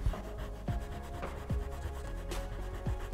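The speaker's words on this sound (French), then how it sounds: "Ceux qui sont plus nécessaires, on peut les gommer." An eraser rubbing out pencil sketch lines on drawing paper, a close, soft, rhythmic scrubbing with quick back-and-forth strokes repeating about every three-quarters of a second, with no voices.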